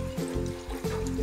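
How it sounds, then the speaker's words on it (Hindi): Water poured from a glass into a cooking pan for Maggi noodles, a short, close, steady trickling stream. "तो मैं यहाँ 3 ग्लास पानी डाल रही हूँ।"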